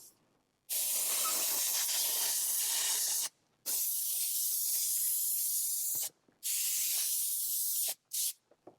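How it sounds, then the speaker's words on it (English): Compressed air blows dust out of the crack of a car seat during interior detailing, three long steady hissing bursts with brief pauses, then a couple of short puffs, loud and close, with no talking. "I'm going to blow out the crack of the seat, and you can see the dust that's in there."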